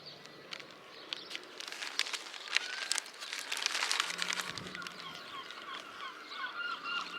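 Gulls call repeatedly near a person eating a Cornish pasty outdoors in St. Ives, sharp squawks and cries scattered over a steady hiss of outdoor ambience, with paper wrapper crinkling close by.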